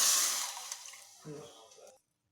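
A jug of water poured into a rasam pot, a splashing gush that fades and stops abruptly after about two seconds, followed by silence.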